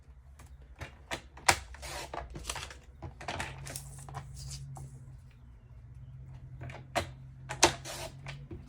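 Sheets of paper are cut on a paper trimmer to 5 inches, giving a series of sharp clicks, slides and crisp cutting snaps at an irregular pace, close and fairly quiet.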